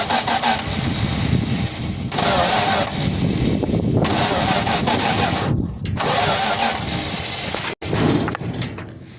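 Small engine with its choke partly on, cranked after sitting a while: loud, steady mechanical churning that cuts out briefly between several repeated start attempts, with no clear catch to a settled idle.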